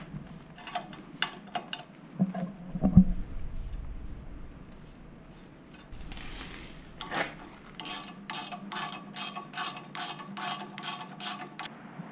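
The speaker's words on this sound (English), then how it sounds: "I don't want to get too carried away tightening this chain." Ratcheting clicks come from tightening a sawmill drive chain by turning a threaded rod on a Wood-Mizer LT10 sawmill: irregular bursts early, then a steady run of close, evenly spaced clicks in a quiet shop.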